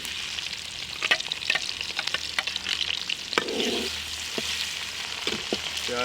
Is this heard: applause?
no